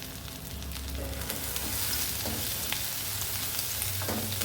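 Horse gram with grated coconut and coriander leaves sizzles in a hot pan while being stirred, a continuous close frying hiss with soft scrapes of the spoon.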